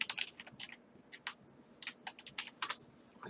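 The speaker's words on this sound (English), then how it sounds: "I'm just typing in my email and password over here." Typing on a computer keyboard while entering an email and password for a Minecraft server login: quick, irregular bursts of close, light key clicks with short pauses, no talking.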